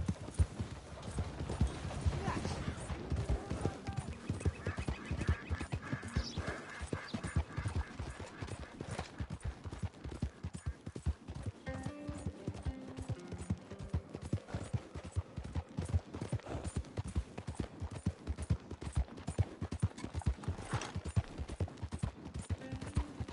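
Horse hooves clip-clop at a steady galloping rhythm throughout in Red Dead Redemption 2, loud and continuous, with faint mechanical clatter and a brief whinny under it.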